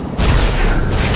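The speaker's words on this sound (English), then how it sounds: "Missile." A missile launches in the Wipeout Pure racing game: a sudden loud booming whoosh that starts abruptly and holds as a dense roar for about a second.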